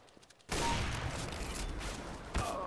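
Sustained burst of gunfire in a CS:GO deathmatch, loud and continuous for over two seconds, with a fresh volley near the end.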